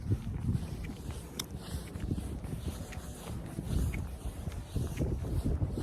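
Steady gusty cold wind on a sunny day buffets the microphone with a low rumbling roar, rising and falling throughout, no voices.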